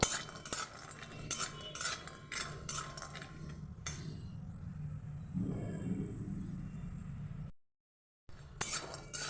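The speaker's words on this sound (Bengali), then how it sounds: "এটা মুগ ডালের বড়ি দিয়ে দিলাম আমি ভালোভাবে এটাকে নাড়াচাড়া করে ভেজে নেব" Mung dal bori frying in hot oil while a spoon stirs it, with bright metallic clinks against the pan at first, then a steady close sizzle that cuts out briefly near the end.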